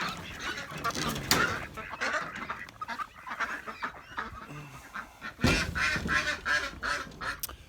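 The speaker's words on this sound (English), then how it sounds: "We'll let the ducks out." Homestead ducks being let out, a flock quacking and honking noisily close by in overlapping bursts, with rustling and movement around them.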